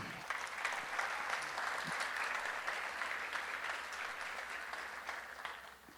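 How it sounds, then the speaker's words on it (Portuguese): A church congregation applauds together during a worship service, a dense sustained wash of clapping that fills the space evenly for several seconds before easing off slightly at the end. "aplauda o Senhor Jesus"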